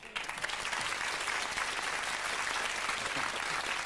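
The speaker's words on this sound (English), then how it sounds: "he deserves a round of applause" Steady applause from a crowd, continuous clapping throughout at moderate volume, no voices standing out.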